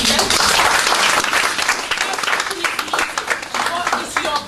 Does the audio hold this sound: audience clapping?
yes